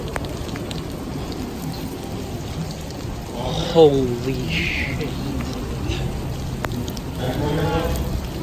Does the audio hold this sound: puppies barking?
no